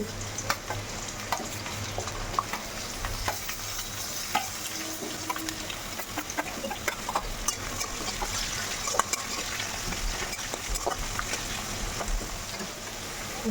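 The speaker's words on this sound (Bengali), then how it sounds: "এবার দেখো এই যে রসুন দিয়ে দিচ্ছি পেঁয়াজ কুচি" Garlic and chopped onion hiss and sizzle in hot oil in a pan while meat khichuri is cooked, with steady frying crackle and occasional stirring clinks, close and continuous.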